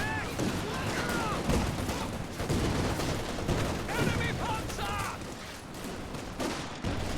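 Company of Heroes 2 battle with machine gun fire, rapid overlapping bursts of automatic shots and scattered rifle cracks in a loud, continuous barrage, while a voice speaks over the combat.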